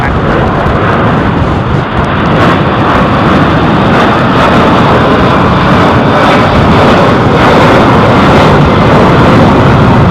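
Boeing 767-400 jet at London Heathrow, a loud, steady broadband engine roar that fills the whole stretch without a break, close and alone with no talk.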